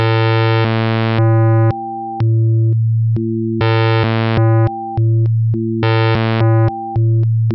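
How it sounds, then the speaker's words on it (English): A riff repeats on a pocket piano synth, switching between waveforms that change its bright, buzzy tone. The notes are loud, clipped and rhythmic, and the short pattern plays twice with nothing else underneath. "keep playing the riff with each waveform that is on the pocket piano"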